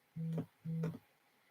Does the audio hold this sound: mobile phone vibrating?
yes